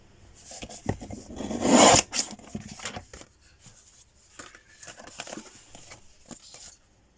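Rasping cuts trim uneven paper strips for a handmade journal cover, with a loud dense burst near the middle and scattered shorter scrapes and snips around it, close up with no talk.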